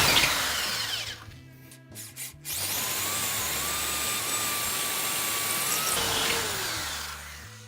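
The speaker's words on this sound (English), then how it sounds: "we're going to drill straight through, 3/8 inch bit" A power drill with a 3/8 inch bit bores straight through wood into metal while fastening a coping piece. It starts with a few short bursts, then settles into a steady, close, loud whine for several seconds before winding down.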